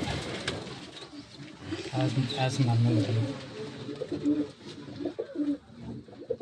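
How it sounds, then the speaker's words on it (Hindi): Champion Shaqa-breed pigeons coo in soft, repeated throaty rolls close by, while someone talks over them throughout. "चैंपियन कबूतरों का आपको शौक करवा रहे हैं माशाल्लाह"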